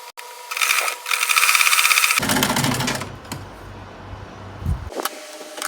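A sewing machine topstitches an Ankara gown in a couple of short, rapid mechanical bursts, close and fairly loud, followed by quieter handling clatter and faint rustling of fabric.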